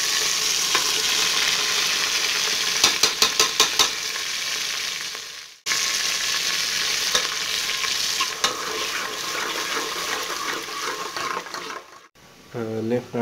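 Onions frying in a pan for an aloo gobhi dish, a loud continuous sizzle with stirring scrapes and a brief break, a voice speaking near the end.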